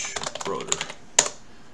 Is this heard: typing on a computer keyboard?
yes